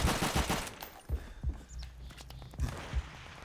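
Bursts of machine gun fire in the World at War video game, with rapid fusillades and separate heavy thumps at close range over a low rumbling background.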